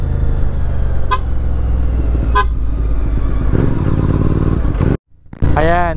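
A Honda Click 160 scooter engine runs steadily up close, with two short horn toots early on, a brief cutout near the end, then the engine picks back up.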